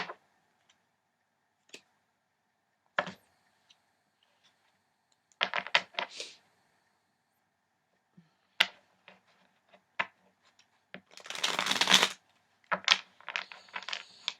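Sparse clicks and riffling bursts of tarot cards being shuffled close by, quiet gaps between, building to a longer flurry near the end.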